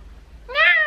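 A single cat gives one short, close, rising meow after a moment of near quiet.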